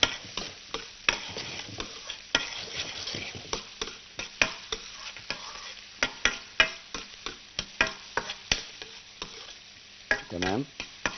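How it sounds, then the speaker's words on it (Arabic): Finely chopped onion fries in a little oil with a soft steady sizzle while a spoon scrapes and stirs it in the pan, giving repeated clicking taps against the cookware throughout. "سنه زيت بسيطه. هنزل بالبصله اللي انا فرمتها، برنواز الصغيره دي"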